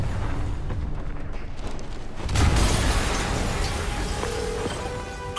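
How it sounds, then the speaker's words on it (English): In Marvel's Spider-Man video game, a sudden loud explosion boom at about two seconds gives way to a sustained, rumbling roar, with game ambience and a faint tone underneath. "an explosion just... I saw it."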